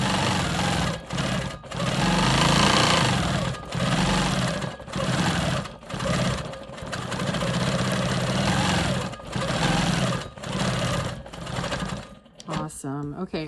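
A quilting machine stitches in the ditch between two fabrics on a card trick block, running in loud steady mechanical bursts of a second or two, separated by short pauses, with a clatter at the end.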